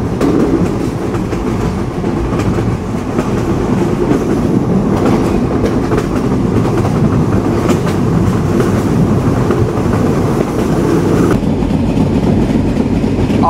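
An Intercity Chitra Express train runs through Fultala railway station in Khulna, heard from inside an air-conditioned carriage as a steady loud rumble with rhythmic clickety-clack of wheels over rail joints throughout, no voices.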